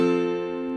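A guitar chord rings out after a strum, sustained and steady, fading slightly over under a second with no voices.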